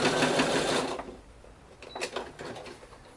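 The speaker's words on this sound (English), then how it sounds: "That should be almost all of the sewing for this." A sewing machine stitches fabric for an X-Wing chest box prop in a loud, fast whirring burst that stops after about a second, followed by a few quieter clicks and taps of the machine.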